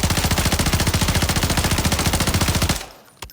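A low-recoil gun in Warzone fires a fast, loud, even burst of automatic shots that stops sharply near the end, followed by a brief clack.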